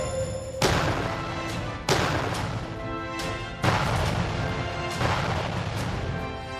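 An artillery firing drill produces four heavy, booming blasts spaced about one to two seconds apart, each one loud and sharp with a long rumbling decay. No voices are heard.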